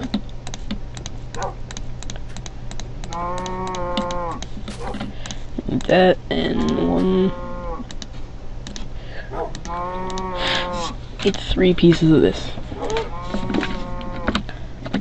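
A cow in Minecraft moos several times, drawn-out harmonic lows repeating across the stretch, mixed with rapid computer keyboard typing and someone talking at times.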